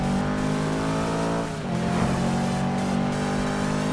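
A Chevrolet Camaro Z28 engine revs in the Need for Speed 2015 video game, a loud, sustained droning roar that dips briefly and then climbs again, heard alone.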